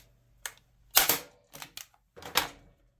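A Ryobi or Milwaukee staple gun on its maximum setting drives half-inch staples, giving several sharp, close mechanical snaps in quick irregular succession against near silence.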